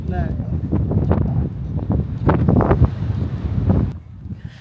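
Wind rumbles against the microphone outdoors at Pechanga while a person talks over it, the gusts rising and easing throughout.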